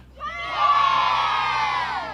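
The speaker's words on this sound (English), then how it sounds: "That was a pretty good cheer." Second grade students shouting a big group cheer outdoors at a school Arbor Day event, a loud, high-pitched swell of many young voices rising quickly and holding steady.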